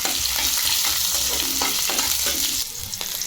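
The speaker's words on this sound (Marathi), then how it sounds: "तर अगोदर आपण आता हे तेलामध्ये भाजून घेऊ" Green chilies and garlic with cumin seeds fry in hot oil in a pan, a dense steady sizzle with stirring scrapes throughout, dropping slightly quieter near the end.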